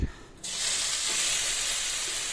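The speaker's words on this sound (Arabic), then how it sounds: "واحط شويه زيت، انزل بالبصل." Onions dropped into hot oil burst into a loud, close sizzle after a short quiet moment, then keep up a steady, bright frying hiss with no speech.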